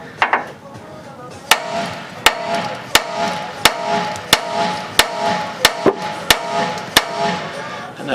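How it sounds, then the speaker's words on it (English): A small Snap-on dead blow hammer strikes a ball joint on a Dodge Ram 3500, landing about a dozen sharp, loud blows in a steady, evenly spaced rhythm with short ringing decays in a workshop. "I'm learning to like these little snap-on dead blow hammers"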